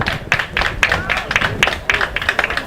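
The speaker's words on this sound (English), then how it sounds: "It sounds like there's claps to go around here" Scattered spectators clapping at a club rugby sevens match, uneven rhythmic claps close by and fairly loud, with a voice talking faintly underneath.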